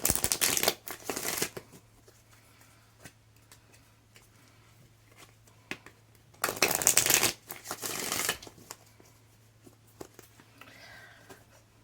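An oracle deck of Moonology cards being shuffled by hand, with two long riffling bursts and scattered lighter card flicks and taps in between, close and clear against a faint steady hum.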